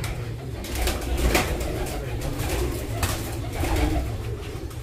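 Pigeons coo in repeated soft throaty calls close by, over a steady low background hum, with a few brief sharper bird sounds scattered through and no clear talk.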